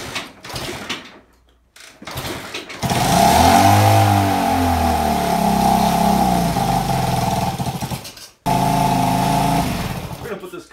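Small Honda S90/CT90 motorcycle single-cylinder engine on choke, long unused, sputters and catches after brief cranking, then runs steadily and loud up close, dips in pitch, cuts out briefly and restarts.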